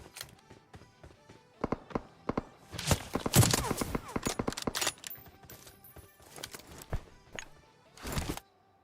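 Gunshots in the mobile battle royale game PUBG Mobile, with a headshot on an enemy wearing a level 3 helmet: a dense central burst of sharp cracks, then scattered single shots and a final loud burst, all close and with no talk.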